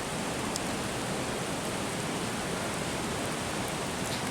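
Rain falling at Fall Creek Falls blends with the rushing water into a steady, dense hiss that stays even and moderately distant, with no voices.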